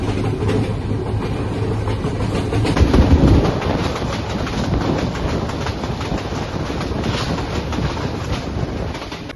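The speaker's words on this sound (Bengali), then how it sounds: "যাচ্ছে আলমডাঙ্গা, ঢাকা থেকে আলমডাঙ্গা যাচ্ছে। খুব ভালো লাগছে ট্রেনে করে।" Passenger train travelling from Dhaka to Alamdanga, a steady loud rumble of wheels on rails with rattling carriage noise and wind buffeting throughout, close and continuous, with no talking.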